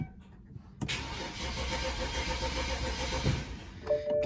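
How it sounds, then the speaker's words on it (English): A BMW 335i engine cranks steadily for about three seconds without firing, all ignition coils unplugged, a loud continuous churning that cuts off abruptly. "we're going to give it a crank real quick with all the ignition coils unplugged"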